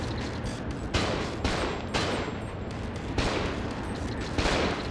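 Rapid bursts of gunfire from the survival-horror video game Cold Fear, several loud volleys spaced a second or so apart with continuous firing between, close and dense with no talking.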